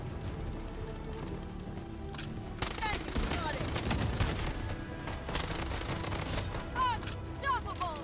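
Rapid gunfire from the Bloodstrike shooter game crackles in dense bursts, growing louder and busier after the first few seconds, with fast repeated shots and impacts over a steady game backdrop.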